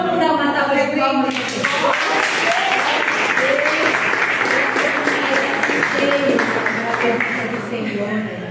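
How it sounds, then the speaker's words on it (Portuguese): A church congregation claps in loud, sustained applause that fills the whole stretch, dense and even, with a voice speaking over it. "Então vamos dar uma salva de palmas."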